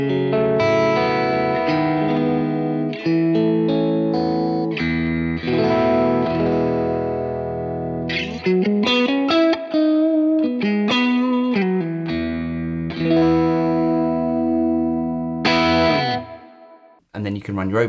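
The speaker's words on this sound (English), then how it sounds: "you can get these really nice clean on the edge of breakup sounds" Guitar through a Tone King Imperial tube preamp at the edge of breakup, clean-to-gritty chords and single-note lines played loud and close, a lively riff with brief pauses.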